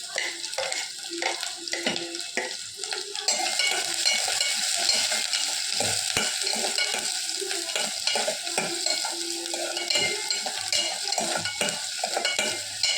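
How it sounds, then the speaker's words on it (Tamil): Steady sizzling of chopped onions frying in a pan, with stirring scrapes and clatter throughout; the sizzle grows louder a few seconds in and stays constant. "பொடியாக வெட்டி வச்சுருக்கிற பெரிய வெங்காயத்தை சேர்த்துக்கலாம்"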